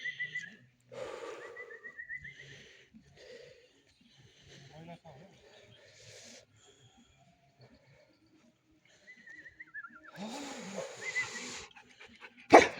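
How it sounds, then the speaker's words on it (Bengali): A puppy on a hillside at Chotto Mangwa near Darjeeling gives short, high yelps and whines in scattered bursts, nearby and fairly faint, while people talk around it. "ডগির বাচ্চা।"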